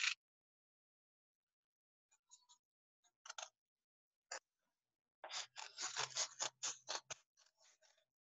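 Scissors cutting through folded paper for a woolly mammoth craft, faint scattered snips at first, then a denser run of quick crisp cuts.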